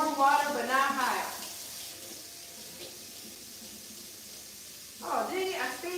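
Warm water runs steadily from a faucet while hair is rinsed during removal of bright blue hair color, a continuous splashing hiss between bursts of talk at the start and end.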